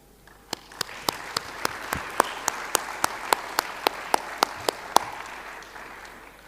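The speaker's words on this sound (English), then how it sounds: "I want us to applaud them." Audience applause at an international conference, a soft bed of clapping punctuated by one sharp, regular, close clap repeating about every quarter second before fading out.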